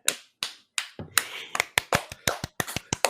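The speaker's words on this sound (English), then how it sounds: "We should give a round of applause." A small podcast group claps in sparse, uneven bursts, each sharp slap standing alone, close and fairly loud, more a scattered few hands than a full crowd.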